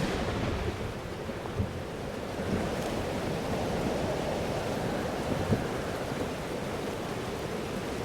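Stormy weather in the Life is Strange game, a steady roar of wind and rushing noise with low rumbling that may be thunder, continuous and fairly loud throughout.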